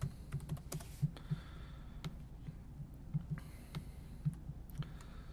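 Computer keyboard typing a new folder name, a quiet run of soft irregular key clicks spread across a few seconds over faint room hum, with no talking.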